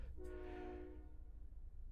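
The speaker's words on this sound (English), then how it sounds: "I hope you can hear that train in the distance." Distant train passing with one long horn blast that fades within a second, leaving a low rumble that continues underneath, faint and far off.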